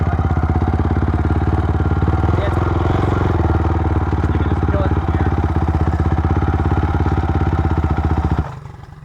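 A 2006 Honda CRF 450 dirt bike engine runs close by with a loud, steady, rapid-firing chug. It holds evenly for several seconds, then cuts off abruptly near the end.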